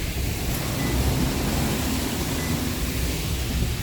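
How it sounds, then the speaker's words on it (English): Swollen river in St. Joseph, Barbados, after heavy rainfall, rushing over a countryside road as a steady, loud broadband roar of water with no voices. "the river is actually high and then it's actually going over the road"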